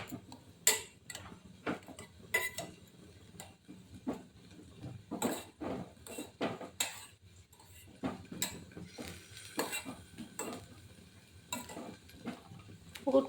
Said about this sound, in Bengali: চামচ দিয়ে গুড়টাকে কন্টিনিউ নাড়তে হবে।